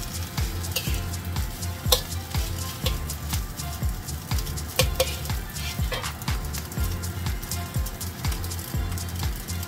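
Luncheon meat fried rice stir-fried in plenty of oil, a steady close sizzle and crackle with rhythmic scraping strokes of a spatula against the pan throughout, no talking.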